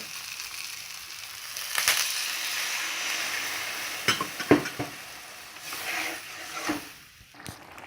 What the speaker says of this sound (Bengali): এবার এটা আমরা জল ঢেলে দেব।